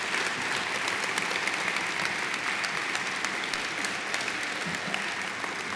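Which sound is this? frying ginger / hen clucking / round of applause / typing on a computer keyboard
round of applause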